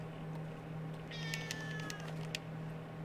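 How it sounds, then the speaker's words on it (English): A pet cat meows indoors, a soft, drawn-out cry with a few short calls around it, faint over a low steady electrical hum. "I don't know if you can hear the cat."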